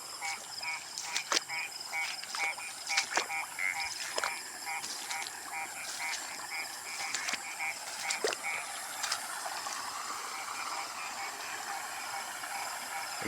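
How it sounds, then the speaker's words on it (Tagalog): A chorus of frogs croaks and rattles in overlapping ratcheting bursts, dense and continuous, fairly faint and outdoors with no talking. "Ang daming nahuli mga palaka, ang ingay."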